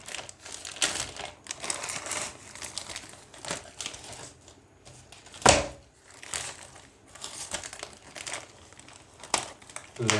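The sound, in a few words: packaging crinkling while unboxing an iPad case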